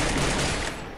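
Dense, rapid gunfire in the battle royale game Free Fire, a sustained crackle of overlapping shots at steady loudness for a second, easing slightly at the end.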